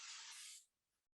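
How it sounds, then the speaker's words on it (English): Cooking spray hisses into a pan on a gas stove in a home kitchen, one steady burst of about half a second, close and fairly soft, then stopping. "Spray your pan"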